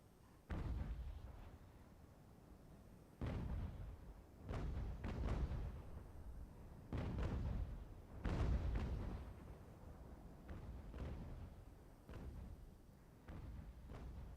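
Naval cannons firing grapeshot in a sea battle of Ultimate General: American Revolution, Royal Navy ships: a string of heavy booming shots, roughly ten deep thuds spaced a second or two apart, some overlapping, with rumbling decay between.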